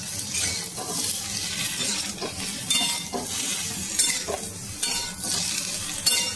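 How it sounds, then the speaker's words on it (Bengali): Potatoes and okra frying in a pan, with a steady loud sizzle and repeated scraping and clinking of a spoon as they are stirred close by. "এই যে আলুটা এখন দিয়ে দিলাম, এই ভেন্ডিটার সাথে আলুটাকেও ভালো করে ভেজে নেব।"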